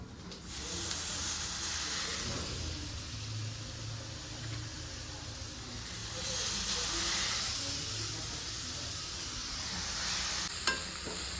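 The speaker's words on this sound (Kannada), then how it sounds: "ಇವಾಗ ಡ್ರೈ ಚಿಲ್ಲೀಸ್ ಒಂಚೂರು ಹಾಕಿ ಮತ್ತು ಟೊಮ್ಯಾಟೊ ಹಾಕೋದು" Dry chillies and tomato hit hot oil in a pan for dal khichdi, giving a steady close sizzle that swells into louder hissing bursts, with occasional stirring.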